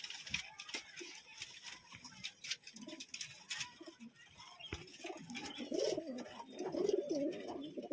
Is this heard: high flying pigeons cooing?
yes